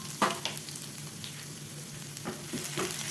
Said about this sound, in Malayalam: ഒരു പാനിൽ ഓയിൽ ചൂടായി വന്ന സമയത്ത് ഞാനത് അതിലേക്ക് നന്നായിട്ട് പൊടിയായിട്ട് അരിഞ്ഞെടുത്തിട്ടുള്ള ഗാർലിക്കാണ് ചേർത്ത് വെക്കുന്നത്.